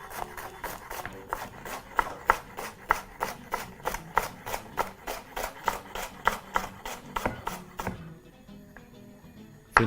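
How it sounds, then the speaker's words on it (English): A knife chops an onion steadily on a cutting board in a quick, even rhythm of sharp taps, then stops near the end. "proceed to chop that very finely"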